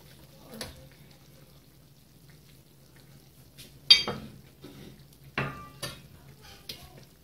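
A lid comes off a pot of slow-cooking mutton gravy with a few metallic clanks and scrapes, over a steady low simmer, with someone talking quietly in between.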